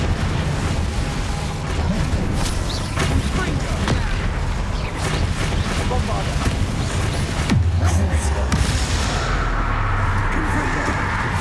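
Incendio fire spells burst in Hogwarts Legacy combat during Niamh Fitzgerald's trial, with a string of loud booming eruptions and crackling pops over constant game noise, and a voice talking partway through.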